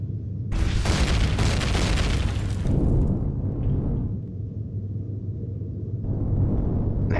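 Small cannons fire in the space game Empyrion, producing a loud booming blast with a long crackling rumble, then a second, lighter explosive burst near the end.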